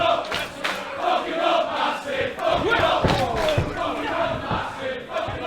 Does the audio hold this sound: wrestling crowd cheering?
yes